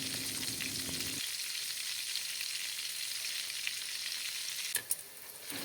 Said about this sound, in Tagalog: Kapag natunaw na yung ating butter, ay saka natin ilalagay ang ating mga binilog na tinapay.